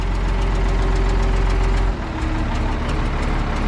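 An old farm tractor that has sat unused runs steadily after a brief rev, its engine giving a loud, close, rumbling idle that steps down to a lower chug partway through.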